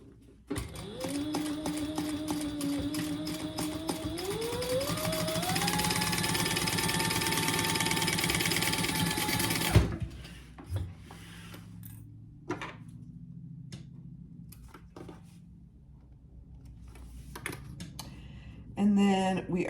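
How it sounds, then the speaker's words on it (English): A sewing machine stitches along the top of a fabric clutch wallet piece, a steady whirring motor drone with rising pitch as it speeds up, running continuously for several seconds, then stopping and giving way to quiet handling clicks and rustles. "So I'm going to sew along the top."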